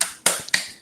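A class does a rhythmic clapping chant in a school lesson, with three sharp, close claps spaced a fraction of a second apart, each fading quickly.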